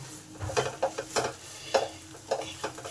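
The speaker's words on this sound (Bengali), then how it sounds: "এবার এই ঝিঙ্গের খসাটাকে ভালো করে শুকনো করে নিতে হবে এই জলীয় অংশটা নেড়ে নেড়ে শুকিয়ে নিতে হবে" A spoon stirs ridge gourd peel paste in a pan, drying it out over heat, with repeated scraping strokes in an uneven rhythm and a faint sizzle underneath, close and fairly quiet.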